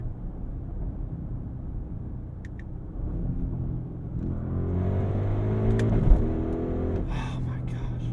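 Audi RSQ8 engine from inside the cabin, a low rumble that climbs steadily into a rising rev toward redline, swelling louder near the end, with a faint whisper of voice at the start.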